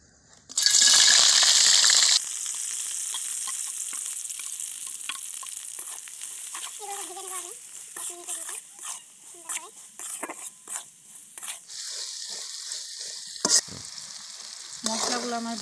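Onion, garlic, sliced chili, turmeric, salt and spices frying in oil, opening with a loud burst of sizzle as they hit the pan, then a steady crackle with stirring clinks and scrapes throughout.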